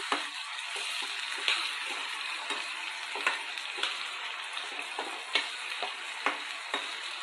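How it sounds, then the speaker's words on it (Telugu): Raw potato pieces fry in plenty of hot oil over a high flame, giving a steady, close crackling sizzle with scattered sharper pops and no voices. "హై ఫ్లేమ్ మీద ఇప్పుడు మనం ఈ బంగాళదుంపల్ని ఫ్రై చేస్తున్నామండి"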